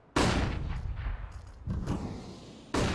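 Gunfire in a competitive Counter-Strike esports match: loud, sharp shot bursts, a cluster near the start, another around the middle and a final crack at the end, with no talk over it.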